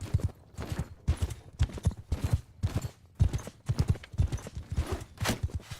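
Horse hooves clip-clop in a fast, steady galloping rhythm during a competitive Bannerlord-style medieval battle game match, close and prominent with no talk over them.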